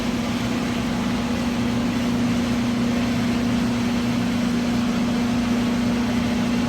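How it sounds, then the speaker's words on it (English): Paint booth fan running continuously to pull dust during painting of a 1966 Ford Bronco restoration, a steady droning hum with broadband airy rush, unchanging and fairly loud throughout. "sorry for the fan, but I need to let it run and keep sucking the last little bit of trash"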